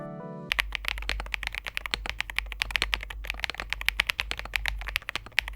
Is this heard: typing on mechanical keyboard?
yes